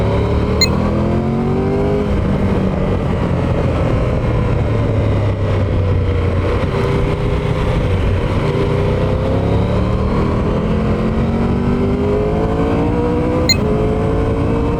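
A Triumph Tiger 1200 GT Pro motorcycle ridden on twisty roads, its engine droning steadily with rising and falling pitch through gear changes, loud and continuous, with wind noise throughout.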